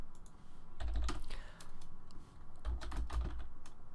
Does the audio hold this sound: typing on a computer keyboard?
yes